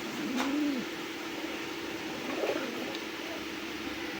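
A pair of Rasgolla pigeons gives soft, low coos, one rolling call near the start and another brief one midway, over a steady background hum.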